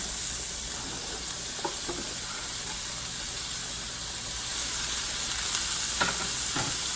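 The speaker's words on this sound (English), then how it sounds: "I'm going to turn the heat down and I'm going to let this cook until it's bright green" Chopped asparagus pieces sizzle and fry in a hot pan, giving a steady close hiss with a few soft stirring scrapes and no voices.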